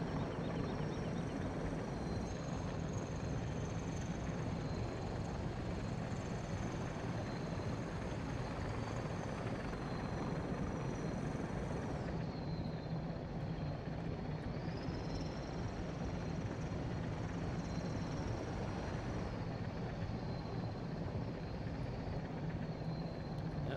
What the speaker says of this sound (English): Chopper's fast, but it sure is noisy.